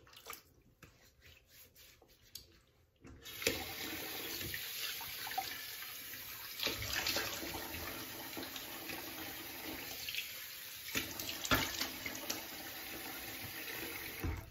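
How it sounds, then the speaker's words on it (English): Cold tap water gushes steadily into a basin after a brief quiet start, a close, continuous splashing rush with occasional clunks of movement, rinsing after a straight razor shave. "Cold water rinse there."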